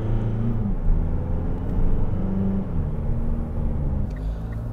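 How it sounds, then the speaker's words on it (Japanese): Mitsubishi Delica D:5 turbo diesel engine hums under load, a low steady rumble that rises slightly in pitch as it revs, heard from inside the cabin with no voices. "踏み込むと非常に気持ちよく吹き上がってくれるんです"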